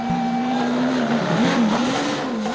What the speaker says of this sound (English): this is my lap with the Škoda rally car around Düsseldorf